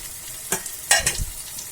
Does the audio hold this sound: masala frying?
yes